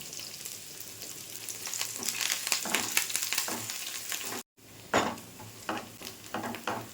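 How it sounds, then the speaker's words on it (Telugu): Onions, green chillies and curry leaves fry in hot oil with a dense, crackling sizzle and occasional stirring clatter, briefly cutting out before the frying noise resumes. "ఆయిల్ మరిగింది ఇప్పుడు కట్ చేసుకున్న ఉల్లిపాయల్ని వేసుకుంటున్నాను పచ్చిమిర్చి కూడా వేసుకుంటున్నాను"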